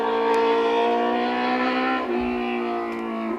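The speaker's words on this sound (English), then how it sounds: "that's a motorbike going" A motorbike goes past, its engine a loud, steady drone whose pitch drops midway as it moves off, heard alone without talk.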